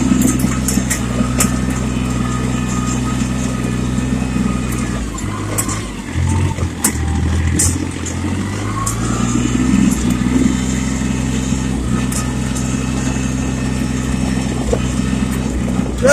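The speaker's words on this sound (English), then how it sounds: "Most of this having some fun with the tractor too." Diesel tractor engine driving through winter snow, a steady loud low rumble throughout with a brief dip and rev change midway, nearby and continuous.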